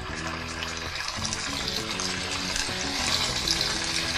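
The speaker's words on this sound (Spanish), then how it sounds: "Vamos a sofreír el pollo" Steady sizzling and crackling of food frying in hot oil, close and continuous, with no talking.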